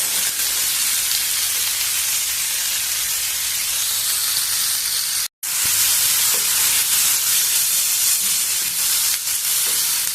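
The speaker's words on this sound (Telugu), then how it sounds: "అన్నీ వేగిపోయినాయి, ఉల్లిపాయలు, టమోటా అన్నీ" Onions and tomatoes fry in a pan with a steady, loud, close hiss and sizzle that runs almost unbroken, cut by one brief silent gap near the middle.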